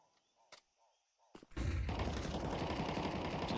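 Gunfire in a professional Counter-Strike match: a few faint clicks, then a dense, loud, continuous burst of rapid shots.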